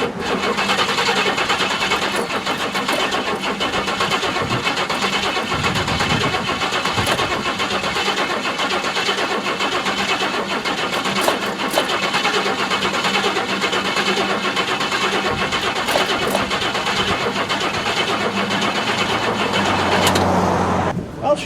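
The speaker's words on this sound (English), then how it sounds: "It's going to take quite a bit of cranking, I'm guessing, for it to start, but the main thing is that it cranks." A Buick engine cranks on jumper cables without catching, a continuous grinding starter whir going on and on at steady loudness, with a few clicks and a faint voice in places.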